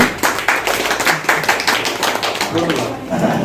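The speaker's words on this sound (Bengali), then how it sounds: "আমরা সকলে করতালির মাধ্যমে উৎসাহ দিব" Audience clapping at a school Victory Day award ceremony as a pupil receives her prize, loud, close and uneven, with some voices mixed in beneath it.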